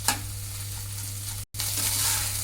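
Basmati rice for pulao frying and being stirred in a pan over a low flame, a steady close sizzle with light scraping, broken by a brief cut to silence midway.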